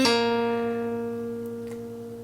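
A single sustained electric guitar note rings out clearly and slowly decays, with a faint second pluck near the end; no talking.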